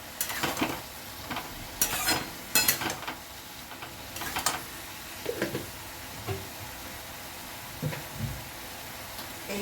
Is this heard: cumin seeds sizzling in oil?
yes